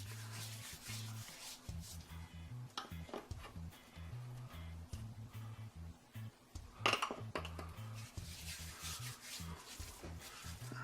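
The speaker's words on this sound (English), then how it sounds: "let me rub this in real good" Hands rubbing paprika seasoning into a pork roast, giving a close, steady scrubbing and smearing sound with occasional light clinks, over a low humming background drone.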